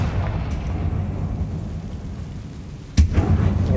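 A Confringo fire spell explodes in Hogwarts Legacy inside a closed mine tomb, a sudden loud boom landing late over a low rumbling game ambience.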